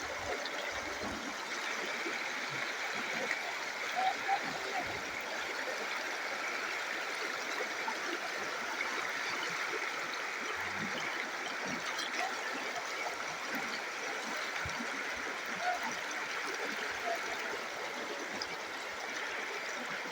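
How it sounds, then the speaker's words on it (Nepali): A river swollen by a night of heavy flood rain rushes steadily in a broad, even roar, loud and continuous without pause, close by, with no voices over it. "यो चाहिँ आज खोलाको अवस्था।"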